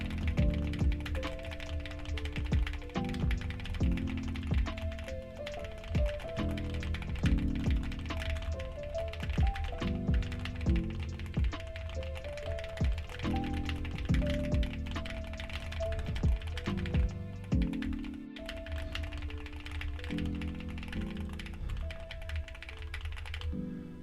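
Fast, continuous clacking of a mechanical computer keyboard during live online typing races, close and steady with dense irregular keystrokes and brief pauses throughout, with no speech.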